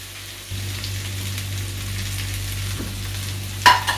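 Chopped onions dropped into hot oil in a pan for crab roast, a steady close sizzle that starts abruptly and runs continuously, ending with a brief clatter of stirring, no voices.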